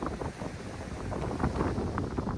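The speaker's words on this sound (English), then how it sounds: "It is pretty darn windy down here this morning" Steady gusting wind buffets the microphone, a continuous broadband roar with rumbling low end and no voices.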